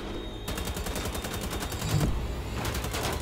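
Rapid automatic gunfire from a weapon in the shooter Wolfenstein: The Old Blood, a dense rattling burst that breaks off briefly before resuming, loud and close with no voices over it.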